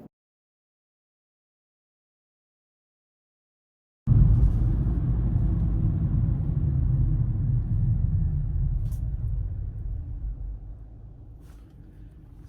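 A steady low interior rumble from a Kia Forte on the road begins abruptly after a silent stretch, holding a constant engine and road drone that slowly fades toward the end.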